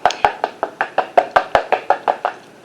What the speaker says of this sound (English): Tap it from the back.